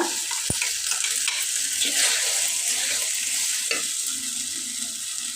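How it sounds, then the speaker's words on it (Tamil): Tomatoes and ground paste sizzle in a hot pan for a black-eyed pea and brinjal gravy, with a steady frying hiss and scraping stirs, plus a sharp clink near the start. "தக்காளி சேர்த்ததுக்கப்புறம் நம்ம அரைச்சி வச்சுருக்கிற பேஸ்ட்டு சேர்த்துக்கோங்க"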